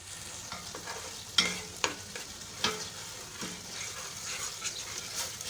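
Spice masala for beef paya is stirred and fried in a pot, giving a constant sizzling hiss broken by several sharp scraping clatters of the spoon against the pan at irregular intervals.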